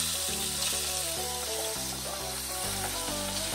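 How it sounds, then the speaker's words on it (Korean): Beef stir-fries in sesame oil and cooking oil in a frying pan, giving a soft steady sizzle beneath prominent music. "프라이팬에 참기름, 식용유를 두르고 소고기를 볶습니다."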